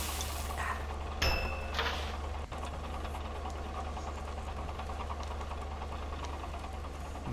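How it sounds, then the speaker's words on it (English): A diesel engine running in the Hydroneer video game, a steady low rumbling drone with faint rhythmic knocking, continuous under light mechanical and water noises, no talk. "It's the most pleasant diesel engine sound I've ever heard"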